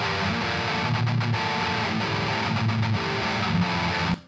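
Heavily distorted electric guitar palm mutes from an expensive rig played through a Line 6 with the EQ off, dense and chugging with a muddy, indistinct low end, steady rhythmic bursts for about four seconds before stopping abruptly.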